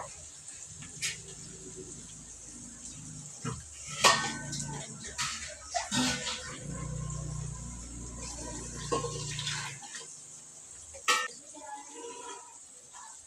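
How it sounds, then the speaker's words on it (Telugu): Water pours onto rice in a pot in a few bursts, with clinks of metal cookware and a steady low running sound in between. "రెండింటికి నాలుగు గిన్నెలు నీళ్ళు పోసేస్తా"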